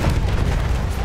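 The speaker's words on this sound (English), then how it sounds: "Bomba." A bomb explodes in the Battlefield 1 game, a loud, dense, sustained low boom filling the whole short moment.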